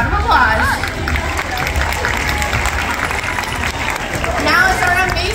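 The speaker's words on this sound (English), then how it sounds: "You all deserve a huge round of applause." Steady, dense applause from a large audience at a SeaWorld San Diego dolphin show, filling the whole span at even loudness, with crowd murmur and a few whistles or cheers rising through it.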